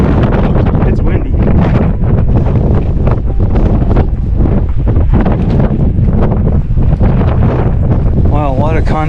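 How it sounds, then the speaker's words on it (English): Strong outdoor wind roars and gusts across the microphone in a loud, continuous rush, with brief faint higher sounds near the end. "It's windy"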